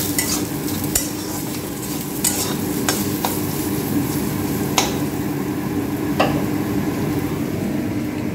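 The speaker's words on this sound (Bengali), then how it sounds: "এবার আলুটা ভাজা করে নিই।" Sliced potatoes fry in a pan in a home kitchen, giving a steady close sizzle with scattered sharp clicks and scrapes of stirring throughout.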